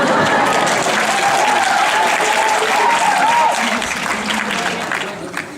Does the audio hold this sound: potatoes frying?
no